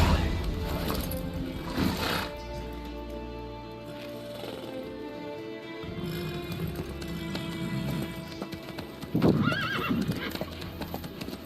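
Horse hooves clip-clop steadily in The Witcher 3, with a loud whinny and snorting breaking in partway through over faint game ambience.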